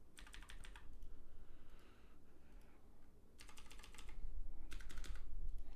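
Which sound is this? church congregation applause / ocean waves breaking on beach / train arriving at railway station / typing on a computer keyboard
typing on a computer keyboard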